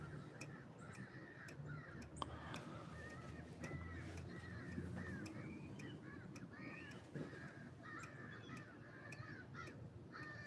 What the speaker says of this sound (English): Listen to my crow buddies there.